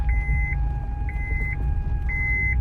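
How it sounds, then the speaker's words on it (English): A steady electronic chime repeats three times at even intervals over a low engine rumble inside a car, a seatbelt warning beep from a broken seatbelt. "So the seatbelt is broken. So that's why it's doing that beep."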